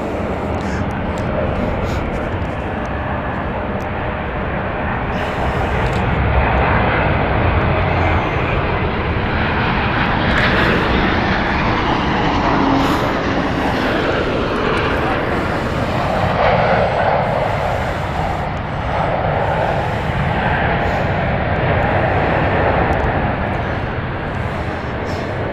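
An airliner on the Berlin flight arrives at London City Airport, a broad, rising and falling jet roar that swells and lingers across the whole stretch, with a voice talking faintly beneath.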